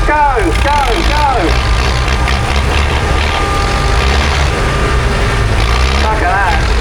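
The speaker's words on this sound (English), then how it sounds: "So can we please, just before we leave, rev your engines and shout, beat your horns for Susan, who does all the tractors for you" Loud, continuous engine rumble from several tractors revving together in a tractor festival arena in Kent, with shouting and cheering voices mixed throughout.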